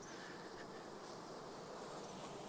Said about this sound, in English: The bees are just going nuts.